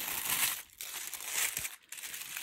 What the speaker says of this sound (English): so I don't make too much ruffling noises with the paper there